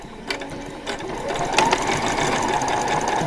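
A sewing machine stitches elastic onto a skirt, its needle running in a fast, steady mechanical whir with a few clicks and small speed changes, close up and with no speech.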